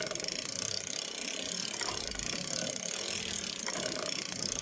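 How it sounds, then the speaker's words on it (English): A hand-cranked circular sock knitting machine clatters steadily as it is turned toward the toe of a sock, its needles and ratcheting gears producing a continuous, close mechanical rattle with no pauses. "I'm cranking and cranking here towards the toe"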